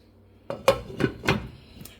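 Lid being set over a pot of simmering creamed spinach, a few close metallic clanks and clinks of lid against pot in a short uneven burst.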